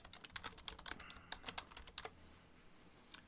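Quick bursts of keystrokes on a computer keyboard, light clicky taps close by and fairly quiet, tapering off into near silence.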